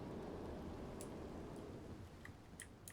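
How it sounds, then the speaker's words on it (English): Heavy rain pours steadily outdoors, a dense continuous hiss with a few faint ticks and drips over it; no one speaks. "it's pouring rain"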